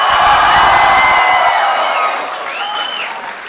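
Live audience at a podcast recording at a convention in Sydney claps and cheers, the applause loud at first and then thinning out as a few whoops ring over it.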